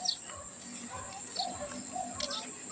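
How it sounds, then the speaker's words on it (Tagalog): Birds calling near a river: faint cooing and chirping calls, several short repeated notes over a steady outdoor hiss. "May mga ibon."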